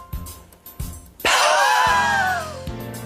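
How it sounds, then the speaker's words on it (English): A long breath is pushed out through pursed lips in a diaphragmatic breathing exercise, a harsh, airy, wheezing hiss lasting about a second, up close, with brief bits of talking around it. "You hear that wheezing sound?"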